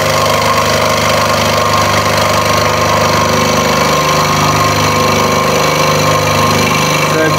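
A scroll saw runs steadily while cutting a wooden jigsaw puzzle, giving a loud, continuous mechanical drone with a fast buzzing hum throughout and no pauses.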